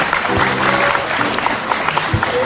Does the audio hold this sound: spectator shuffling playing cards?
no